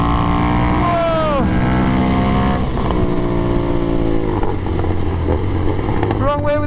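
A sport bike screams around a fast race track, its engine holding a high whine through repeated gear shifts with rising and falling pitch, loud and close under steady wind rush.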